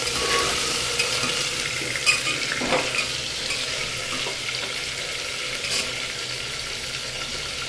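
Vegetables frying in a pan with whole five-spice seeds and dried red chillies for vegetable khichuri, a steady broadband sizzle with occasional stirring scrapes, close and continuous with no talking.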